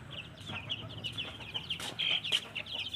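A flock of young, recently grown chickens let outdoors cluck and chatter in a steady, close flock, with overlapping soft calls and a few sharper squawks over low background rumble.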